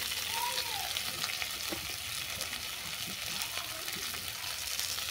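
Puti fish fry in hot oil with ghime greens, a steady crackling sizzle with occasional stirring scrapes, close and continuous, with no talking.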